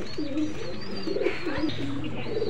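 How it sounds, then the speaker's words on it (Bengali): A male pigeon coos in repeated rolling phrases, close and clear over a steady low background, with several coos spread across the stretch. "এই যে কবুতরটি, এটা নর কবুতর।"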